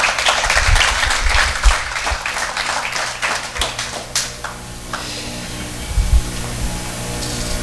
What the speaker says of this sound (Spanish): Démosle un aplauso a Jesús, hermano